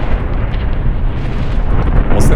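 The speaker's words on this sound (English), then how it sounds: "Was that the artillery? Yes, it was." Artillery fire in the Graviteam Tactics war game: a loud, sustained rumbling blast that rolls on for a couple of seconds, dense and low, with a brief sharp crack near the end.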